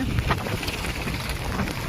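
Heavy rain falls over a village, a loud dense wash of noise with gusty rumble and no talking, steady throughout.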